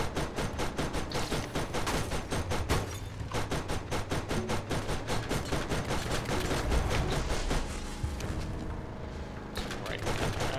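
Steady rapid gunfire from the shooter game Borderlands, fought against a giant flying Rakk, continues almost without pause as loud repeated bursts with a short lull near the end.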